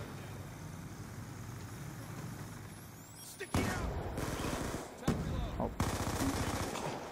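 Gunfire in Black Ops 2: a low rumbling bed of distant shooting, then several sharp, louder shots in quick bursts near the end, with a sniper crack among them.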